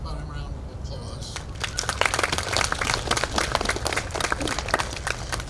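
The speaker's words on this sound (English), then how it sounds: "How about a round of applause?" At a 2017 name-unveiling ceremony at the California Vietnam Veterans Memorial, a crowd bursts into scattered, crackling applause outdoors, rising after a brief spoken introduction and continuing as a moderate patter of claps.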